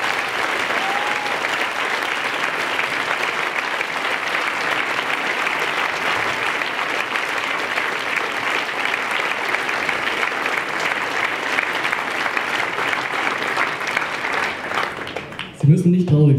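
A concert audience at a school symphony concert applauds an orchestra arrangement, sustained, dense clapping filling the hall for about fifteen seconds before a voice cuts in at the end.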